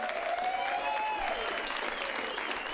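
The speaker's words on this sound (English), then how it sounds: "let's give a big round of applause to our tech, Anthony, up there." A crowd at a live fight night show applauds loudly with steady clapping and some cheering, sustained throughout.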